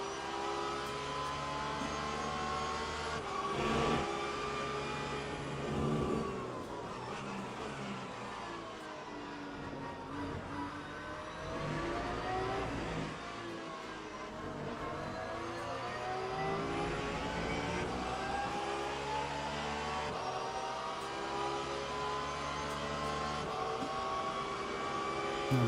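A Lamborghini GT3 race car engine in the Le Mans Ultimate racing game drones steadily, its pitch rising and falling through gear changes and braking over a long stretch, moderately loud with no talk.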